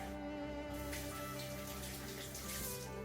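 Peeled boiled eggs rinsed under a running kitchen tap, a steady close stream of water splashing continuously with no talking.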